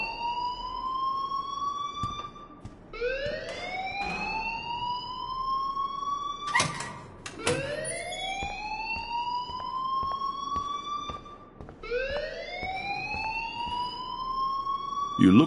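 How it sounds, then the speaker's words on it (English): Electronic fire alarm in the Life Is Strange video game, repeating rising whoops that sweep upward and hold, several cycles in a row, loud and steady with brief clanks and a voice underneath. "please turn off that alarm"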